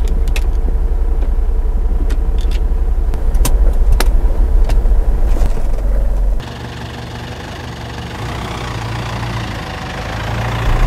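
A 2013 Mitsubishi Pajero Sport Dakar Limited engine hums steadily while driving, a close low drone that shifts to a smoother, quieter rumble partway through.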